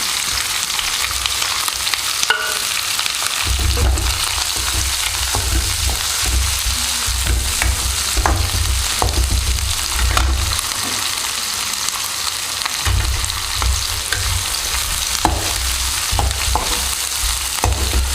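Long-sliced onions frying in oil for a brinjal gravy, a loud continuous sizzle close up, with a low rumble and scattered spatula scrapes and clinks stirring the pan throughout, no talking.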